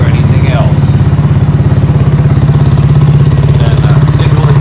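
A fuel-injected Cougar Vitacci XMT 250 motorcycle with a single low side exhaust pipe idles up close, a loud, steady, rapid thumping beat that holds even throughout with a faint mechanical clatter riding on top.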